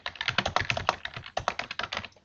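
Rapid typing on a computer keyboard while editing text in a layout editor: a dense, uneven run of close, crisp key clicks with a brief pause midway, no voice over it.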